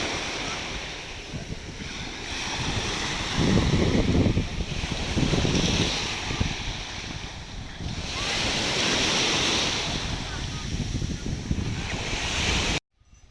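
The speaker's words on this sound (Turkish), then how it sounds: "Burası da Çığlık plajı gibi taşlık kayalık ve çabuk derinleşen bir plaj." Waves surge and wash over a rocky pebble beach in Ereğli, Turkey, that drops off quickly, with steady broadband roar rising in swells around every few seconds and wind buffeting the microphone, no talk.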